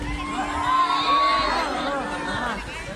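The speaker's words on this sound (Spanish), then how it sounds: "Aplausos, aplausos por Rodrigo Figueroa." A lively crowd at an outdoor live concert at Puente San Francisco in Vinalito, Jujuy, cheers and shouts loudly and continuously, with excited voices rising and falling over a few seconds.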